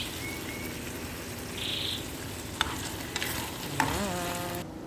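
Sardines with ginger sizzle and fry steadily in a pan, a continuous low crackle with a few clinks of stirring over it and a brief high chirp in the background.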